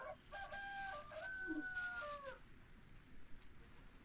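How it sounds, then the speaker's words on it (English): A rooster crows once, a drawn-out cock-a-doodle-doo that rises and fades, fairly faint over a soft background hiss. "a rooster goes."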